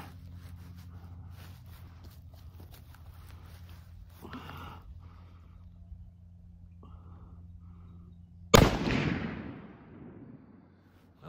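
A 30-06 rifle fires a single loud, sharp shot outdoors at a range, followed by a long decaying echo, after a stretch of quiet low background hum.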